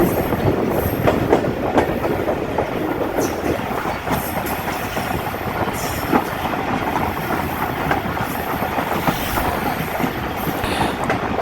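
Train rolling along the Sadiqabad to Bahawalpur railway line in Pakistan, a steady loud rumble of carriages with rhythmic clickety-clack of wheels over rail joints and engine drone throughout.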